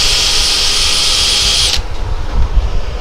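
A wooden pedestal bowl is sanded on a lathe, giving a loud, steady hiss for under two seconds before it cuts off. Faint low rumbling noise follows.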